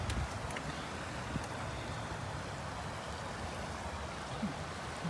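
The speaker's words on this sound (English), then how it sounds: "That's a good time to check on this nice running water" A small creek beside a park bike trail near Brentwood, Tennessee, flows with a soft continuous babble of water, faint and steady with light outdoor ambience and no talking.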